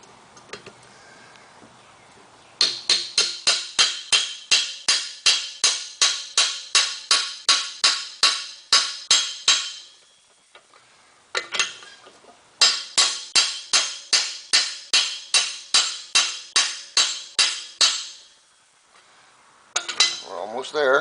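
A cam bearing being hammered into a Harley engine case: rapid, evenly spaced metallic blows in two long bursts of a dozen or more strikes each, with brief pauses between and a few stray taps, loud and close.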